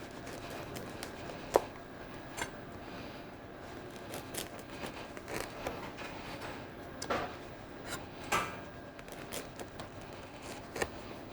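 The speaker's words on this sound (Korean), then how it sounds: "빵은 가루로좀 잘라 보겠습니다." Bread is cut into crumbs on a board while preparing a Korean seminar dish of butter-grilled clams, giving irregular soft knife taps and scraping rubs with a few sharper knocks.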